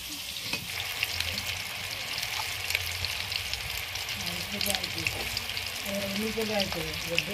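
Chicken pakoras deep frying in hot oil, a busy and steady crackling sizzle up close, with occasional stirring clinks and brief bursts of bubbling.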